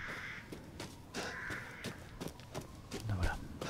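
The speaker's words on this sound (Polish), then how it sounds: "A wrony się nie boją specjalnie." Crows caw in the game Resident Evil Village, several harsh, clear calls in an irregular series that sound moderately close, with a few faint thuds of footsteps between them.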